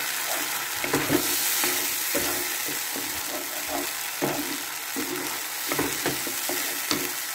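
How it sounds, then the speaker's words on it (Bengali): Cashew, tomato and green chili paste frying in a pan, a constant close sizzle with repeated scraping stirs of a spoon against the pan at irregular intervals. "দিয়ে এবার একটু নেড়ে নেব।"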